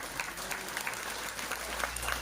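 Brief, fairly faint applause from an audience at an Indonesian Islamic lecture in East Kalimantan, a short patter of clapping with no talk over it.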